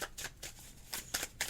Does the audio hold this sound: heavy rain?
no